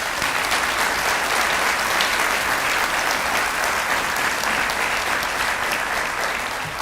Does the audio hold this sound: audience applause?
yes